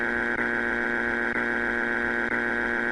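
A Family Feud wrong-answer strike buzzer blares as one loud, harsh, continuous electronic drone, held steadily for about three seconds with a few tiny dips, heard alone with no talking.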